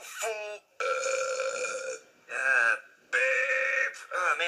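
A long, loud, croaking burp rolls out in several drawn-out bursts with short gaps between them, close and clear, with no other sound.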